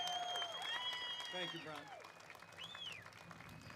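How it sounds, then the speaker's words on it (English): A hometown crowd at an outdoor 'Make America Great Again' political rally in Wisconsin applauds a congressman, with steady clapping and cheering running beneath someone speaking into a microphone. "Would the hometown crowd give a round of applause to Congressman Brian Stile for me?"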